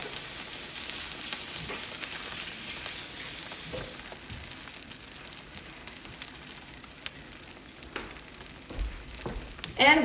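Egg in a basket frying in butter in a pan, a soft steady hiss and crackle of sizzling fat, faint and continuous, with a few small clicks and a louder knock near the end.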